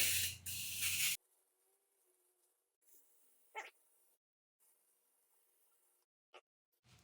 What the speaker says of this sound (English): So as I spray it here on the wheel